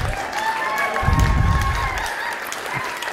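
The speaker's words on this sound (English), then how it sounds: "You can applaud. It's all right." An audience at a hospital marketing awards ceremony applauds steadily, with low thumping and a faint voice or tone over the clapping.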